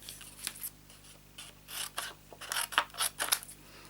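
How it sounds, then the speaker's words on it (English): Hand scissors snip through card for a snowman shaker card, several short crisp cuts in close succession that grow louder and quicker toward the end, near and alone. "So now I'm going to just cut that out by hand."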